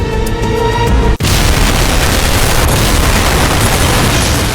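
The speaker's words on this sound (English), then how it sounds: "A second colossal explosion rips through Legian Street." A colossal bomb blast on Legian Street in Bali near the Sari Club, set off from an explosive-packed white Mitsubishi van: one sudden deafening boom followed by a long, loud, roaring rumble that fills the whole stretch.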